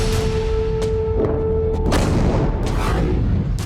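Heavy booming blasts and thuds from Russian drone strikes on Kyiv at night crowd a dense, rumbling wash of noise, with a steady tone in the first half.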